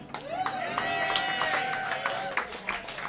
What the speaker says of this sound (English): Let's clap for Kenny